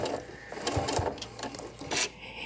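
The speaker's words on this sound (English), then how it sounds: "I'm going to stitch forward, and I'm going to reverse" A sewing machine stitches forward and then in reverse along add-on quilt binding, giving a close, steady, rapid mechanical rattle with a brief change in rhythm partway through.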